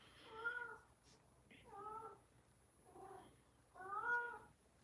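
A house cat meows four times in a row, each meow drawn out and fairly faint, with short pauses between them, over a quiet indoor hum.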